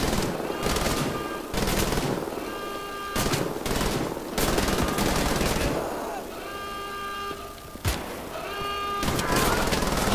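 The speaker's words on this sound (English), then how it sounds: "But you don't have to be happy, because I got a big gun" A heavy automatic weapon in Wolfenstein: The Old Blood fires in long, loud sustained bursts separated by short pauses, with a sharp single crack near the end and a voice talking over the gunfire.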